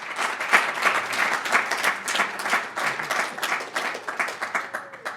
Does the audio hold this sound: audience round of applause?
yes